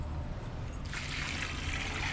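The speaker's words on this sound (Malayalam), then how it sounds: "ഇതിനകത്തോട്ട് നമുക്ക് വെള്ളം ഒഴിച്ച് കൊടുക്കാം." Water is poured into an organic slurry mix made with bone meal, a soft trickle that swells into a steady splashing pour partway through, faint and close with no talk.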